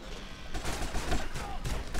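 Shotgun fire during a shootout with FBI agents in GTA San Andreas, a rapid cluster of overlapping blasts packed into two seconds over dense game noise.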